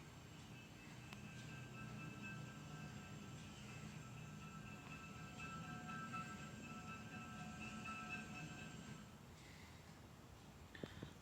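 A yellow Santa Fe diesel locomotive running light rumbles past at a distance on Tehachapi, a steady low drone with sustained tonal whine, fading near the end.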